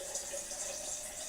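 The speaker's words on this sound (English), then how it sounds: "I'm going to add some clean water," Filtered water pours steadily into a container for juicing, a faint continuous trickle with a light airy hiss and no voices.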